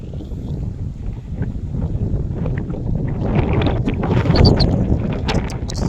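Strong wind at Matsumoto Castle in Japan buffets the microphone in heavy rumbling gusts that build louder toward the end, with no voices.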